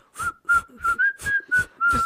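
A person whistles in imitation of a lead emu: seven short, clear whistled notes of steady pitch, evenly spaced in quick succession and close to the listener, with no talk.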